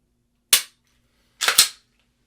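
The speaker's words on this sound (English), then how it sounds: "You start pulling that trigger, it's done. You're firing." Handgun fired at a shooting range: three sharp, loud gunshots, a single shot followed about a second later by a quick close pair, with silence in between and no talk.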